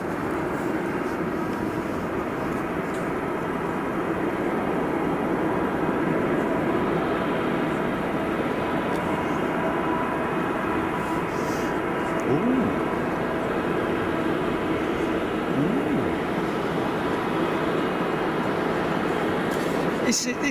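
A small propeller aircraft at snowy Anchorage airport gives a continuous engine drone with a faint whine, steady throughout, while someone talks intermittently over it.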